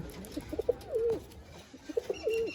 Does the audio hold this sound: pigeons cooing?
yes